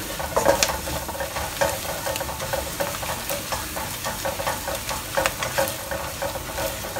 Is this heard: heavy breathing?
no